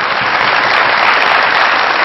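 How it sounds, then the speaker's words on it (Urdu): Studio audience applauding on a Pakistani comedy talk show, a dense, steady wash of clapping that stays loud and even throughout with no voices on top. "بہت ساری تالیاں نومی انساری کے لیے"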